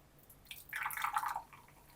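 Homemade bread kvass being poured, a soft fizzing and bubbling hiss that swells for about a second before fading, close and fairly quiet.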